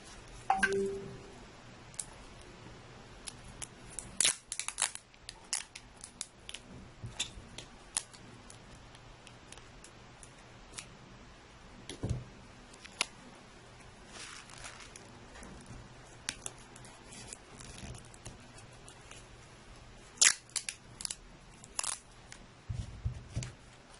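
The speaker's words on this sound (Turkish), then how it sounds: "buraları bantlıyoruz şimdi" Adhesive tape pressed and smoothed onto a handmade light-up greeting card with an LED, heard as faint, sparse crinkles and sharp little taps scattered over a quiet background.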